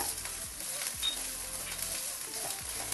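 Freshly grated ginger dropped into a hot mustard seed tempering for dal, sizzling steadily at close range with soft scattered pops throughout.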